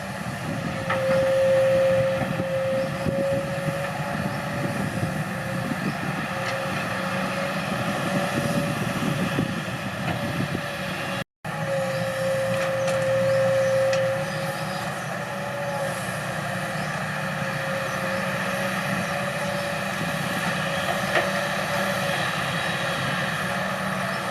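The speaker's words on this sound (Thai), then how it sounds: "ให้ดูการทำงานไปเรื่อยครับ ฟังเสียงเครื่องยนต์" A Kobelco SK200 excavator's heavy diesel engine runs steadily nearby with a constant drone and occasional rising whine, continuing for the whole stretch with a brief cut midway.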